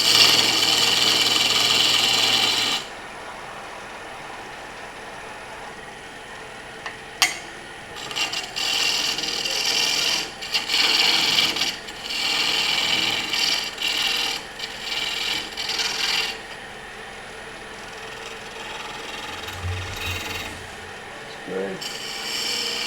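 A tool rasps and rubs against a wooden tenon to shave it down on a hand-carved wooden mushroom, making steady scraping strokes that come in close, uneven bursts after a louder opening passage, with a brief spoken word.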